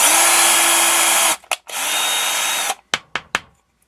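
A power drill with a 3.1 mm bit clearing nylon from holes in a Tamiya King Cab & Hilux Monster Racer part, two loud whining bursts followed by several short sharp trigger blips, close up.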